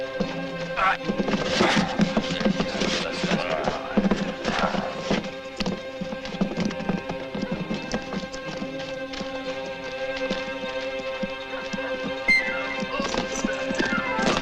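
Horses gallop hard in a western film chase scene, giving a steady, loud, driving clatter of hooves that runs throughout with little else on top.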